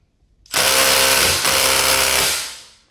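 A Milwaukee M18 Fuel impact driver set in reverse hammers at a lug nut in one loud, sustained burst of about two seconds with a brief dip midway, then winds down, alone with no talk.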